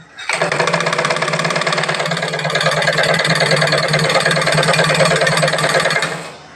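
A motorized sewing machine switched on and running: a loud, steady, buzzing mechanical whir with a fast rattling texture, close by and unbroken for several seconds before it winds down.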